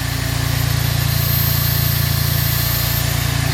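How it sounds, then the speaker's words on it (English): A turbocharged Smart car engine, just fitted with a new water pump, idles steadily and close, with an even low pulsing throb and a faint high whine above it. "You can actually hear the turbo."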